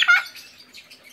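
A lovebird chick gives a loud, bright chirp close by, followed by softer, fainter peeps that trail off.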